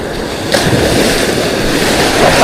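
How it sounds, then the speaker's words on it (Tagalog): Loud, continuous rushing of big ocean waves with heavy wind buffeting the microphone; no voices. "Laki pa naman mga alon."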